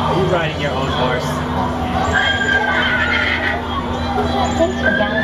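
A ride horse at Legoland California gives a whinnying neigh over a busy theme-park crowd babble, with a steady mechanical hum underneath and music-like tones throughout.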